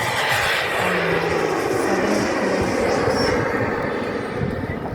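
Small propeller airplanes drone overhead near a small airfield in Germany, a continuous broadband engine roar with faint tonal hums, steady and fairly loud throughout with no talk.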